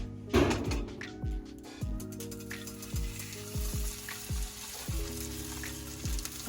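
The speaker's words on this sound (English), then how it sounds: "our pan should be hot now" French toast fries in a hot pan, with a soft continuous sizzle beneath a series of light, irregular clinks and taps from cooking, fairly quiet and close, with no one speaking.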